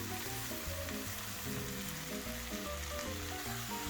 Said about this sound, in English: that's when you can really fry the mushrooms